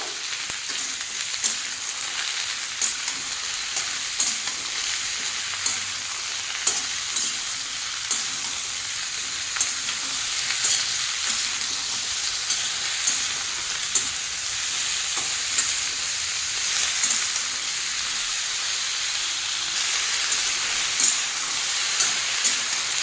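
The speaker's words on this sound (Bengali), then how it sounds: "আবারও ভালো করে নাড়িয়ে চাড়িয়ে ভেজে নেব।" Salted winter vegetables stir-fried over high flame for a fish dish, a constant loud hiss of frying with frequent light scrapes and knocks of a spatula turning them.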